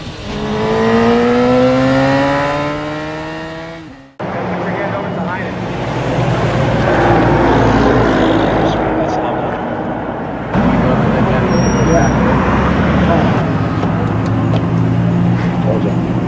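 A Harley-Davidson motorcycle engine revs unevenly with jerky throttle, first rising in pitch, then cutting off abruptly before settling into a loud, rough rumble for the rest of the clip, with voices faintly mixed in.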